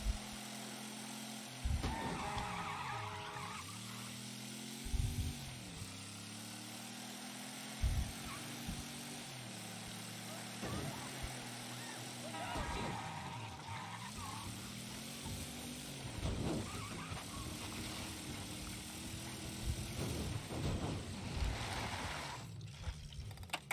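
A car driven in the video game Mafia III, a continuous engine drone with repeated rising and falling revs as it accelerates and shifts, mid-distance and fairly steady throughout.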